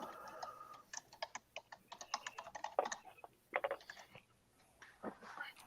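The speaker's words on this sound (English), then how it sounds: "I hear a lot of typing." Rapid, irregular clicking of typing on a computer keyboard, close and fairly quiet, with uneven bursts of keystrokes and short pauses and no clear speech over it.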